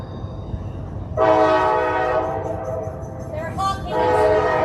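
A train horn blares loudly in sustained harmonic blasts over the low rumble of a passing train at an outdoor rally in Delaware, with a short break before a second long blast.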